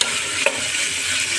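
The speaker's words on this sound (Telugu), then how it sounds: "ఆ పచ్చి వాసన అంతా పోవడానికి చిటికెడు పసుపు వేయించుకుందాం." A pinch of turmeric sizzles in hot oil in a pan while vegetable pulao is cooked, giving a loud, steady close-up frying hiss with a brief stir near the start.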